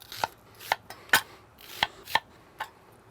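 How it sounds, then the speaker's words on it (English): A knife cuts thick slices of red onion on a board, six crisp, separate chops spaced unevenly over a few seconds, close and clear with no talking. "I love some red onion on mine, so we're going to cut some thick slices here."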